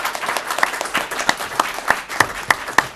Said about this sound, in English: We'll take that applause and we will earn that applause